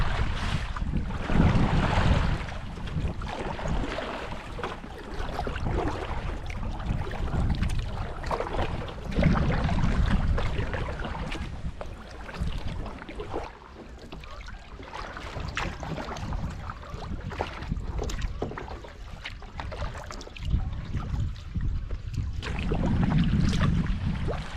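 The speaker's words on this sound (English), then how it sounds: "So we can paddle right into the wind again." A canoe paddled into the wind on a lake: constant gusty wind buffeting and water sloshing, swelling and easing in waves over about twenty-five seconds, fairly loud and close, with no one speaking.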